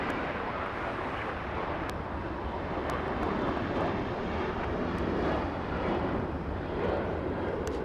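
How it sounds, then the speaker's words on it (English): A Southwest airliner rolls down the runway for takeoff at Los Angeles, its engines a steady, broad roar that stays loud and unbroken throughout, mixed with gusty wind buffeting the microphone. "we have Southwest on the takeoff roll"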